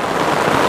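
Steady rain falls in a village, a dense, even hiss with no pauses and no other sounds.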